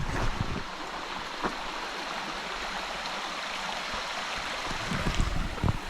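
Along a hiking trail beside Clear Fork Creek in the Appalachians, flowing creek water makes a steady, broad rushing wash with a few faint knocks and footsteps over it, and no voices.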